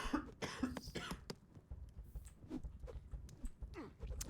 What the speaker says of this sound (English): I apologize for the coughing.